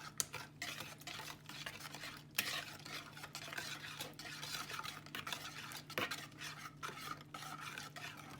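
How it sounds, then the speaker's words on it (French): Cupcake batter is whisked briskly in a bowl, giving a quiet, continuous run of rapid scraping and swishing strokes with light taps against the sides, close but soft. "Il faut bien mélanger."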